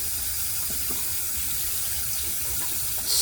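Tap water runs steadily and loudly while a tub is rinsed, a constant close rush of water that swells slightly near the end.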